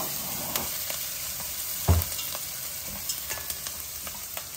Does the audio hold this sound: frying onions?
yes